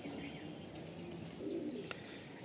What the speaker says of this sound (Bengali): খুব সুন্দর একটা ফিমেল পায়রা।